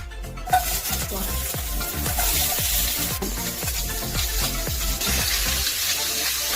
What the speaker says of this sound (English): Get a fry pan. Get an oil. Put it in the fry pan.